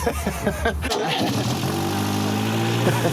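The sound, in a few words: car engine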